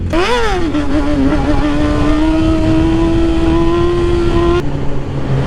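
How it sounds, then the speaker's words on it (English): A motorcycle engine revs up hard as the rider lifts into a wheelie, the pitch climbing sharply, dipping, then holding a loud steady drone before cutting off abruptly near the end. "Should I do a wheelie for him? I'll do a wheelie for him."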